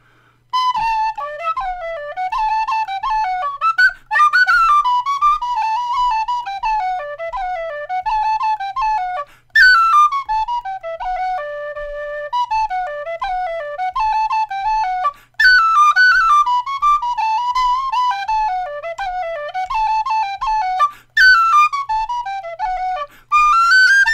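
A tapered bore whistle, an inexpensive tunable type, plays a lively melody alone, bright and steady with quick ornamented runs, phrases breaking briefly at regular intervals.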